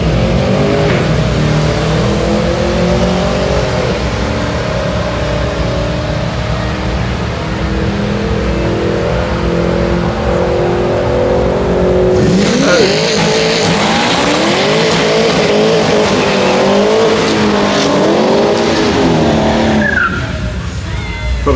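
A drag race street car does a tyre-warming burnout at Sydney Dragway. A loud, steady engine drone gives way midway to a roaring, screeching tyre squeal that runs on before cutting off near the end.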